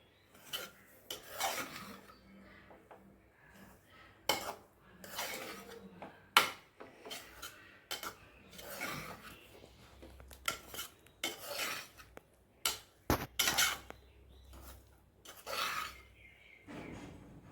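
A spoon scrapes and clinks through cooked vegetable biryani rice in a pot. The stirring comes in irregular bursts of close scraping with short pauses, and no voice is heard.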